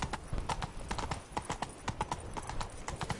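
In a video game, the horse Roach gallops with rapid, rhythmic hoofbeats, a steady close clip-clop of repeated strikes at moderate loudness with no other sounds.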